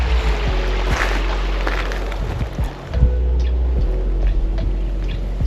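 Floodwater pours across a submerged road after heavy rain, a steady broad rushing wash with low rumble and wind buffeting, heard close with no talk.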